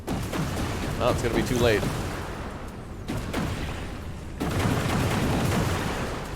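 In Industries of Titan, enemy gunfire hits an energy pylon during an attack on the colony: rattling bursts and noisy blasts under a voice, with a heavier wash of fire near the end.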